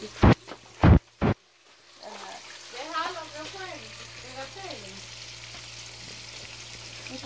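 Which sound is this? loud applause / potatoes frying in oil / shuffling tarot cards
potatoes frying in oil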